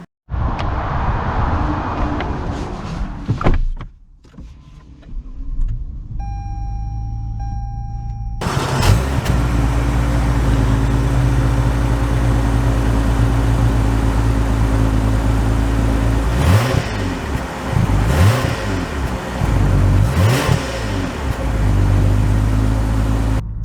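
A 2022 Lexus ES 350 V6 sedan accelerates on the road: a brief hum and pause, then a loud, steady engine drone with tire and road noise, surging in pitch several times as it picks up speed, heard from inside the cabin.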